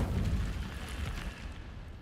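An Incendio fire spell cast in Hogwarts Legacy, a brief loud whooshing burst of flame with a rumbling low body that fades over about two seconds.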